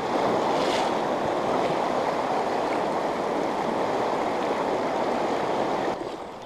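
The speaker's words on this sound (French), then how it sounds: "on est bien sur la même rivière" A small side branch of a trout-fishing river flows with a steady, loud broadband rush that continues alone and drops off slightly near the end.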